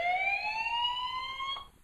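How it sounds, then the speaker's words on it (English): A Remocam RMCU 1508 security camera's electronic siren wails steadily with a slowly rising, piercing tone for under two seconds, loud and close, then cuts off abruptly. "There's even a siren."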